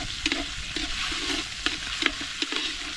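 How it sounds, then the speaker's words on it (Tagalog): Meatloaf sautéing in a pan gives a continuous soft sizzle, broken by a few scraping stirs and clinks at irregular moments, close and moderately quiet with no talk. "igisa rin natin ng meatloaf"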